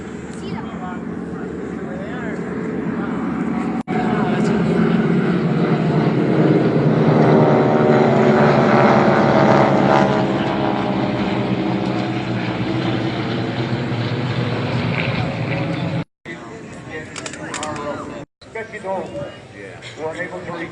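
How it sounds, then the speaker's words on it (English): Small restored propeller aircraft make a pass over an auto fest car show in Frankenmuth, Michigan, engine drone swelling steadily then fading and cutting out, loud and continuous under an announcer's voice. "All fully restored mini aircraft. Pass round."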